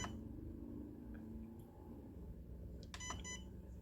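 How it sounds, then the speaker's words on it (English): A few short electronic beeps from an FMS FCX10 1/10 K5 Blazer RC controller near the end, high and thin, over a steady low hum and background noise. "All that does is make beeping noise."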